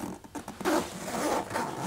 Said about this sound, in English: put your fingers on the outside of the tape, give the pull a little tug, should go on quite easily